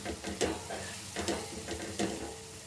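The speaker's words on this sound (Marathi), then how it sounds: "याला आपण व्यवस्थित परतून घेऊया म्हणजे बेसन हे छान भाजले जाईल" Gram flour being stirred and roasted in a pan while making a bell pepper sabzi, with soft scraping strokes and a gentle steady sizzle; a few distinct stirring scrapes recur at intervals, close and moderately quiet, with no talk.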